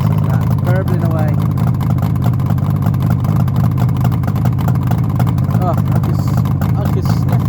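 A Suzuki GT750, its 750cc three-cylinder two-stroke engine burbling at idle close by, a steady low pulsing throb that runs unbroken throughout.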